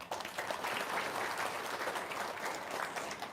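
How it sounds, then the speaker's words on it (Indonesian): Steady applause from a crowd at an Indonesian religious parenting talk, dense clapping filling the whole clip at a moderate distance with no speech over it. "Tepuk tangan dong."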